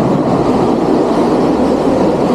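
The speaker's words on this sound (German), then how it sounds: "Dass es hier drin so laut ist, liegt hauptsächlich an den immer offen stehenden Zugtüren." Loud, constant roar inside a moving passenger train whose doors stay open, a dense, even rumble and rush of wind and track noise with no voices.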